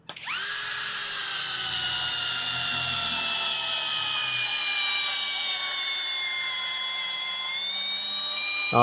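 A Moketa drill driver runs continuously at speed 1, boring through material with a steady high whine that climbs slightly and holds for several seconds, close and loud with no talk.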